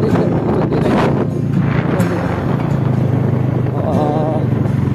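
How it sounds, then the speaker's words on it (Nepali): Loud, continuous motorcycle engine drone with wind buffeting the microphone throughout, the engine note rising and falling slightly as the bike rides along in Mustang, Nepal. "कान्छाले चाहिँ ईश्वरले बाइक चलाइराखेको छ"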